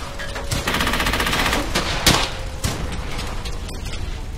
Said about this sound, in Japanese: 機銃を撃て。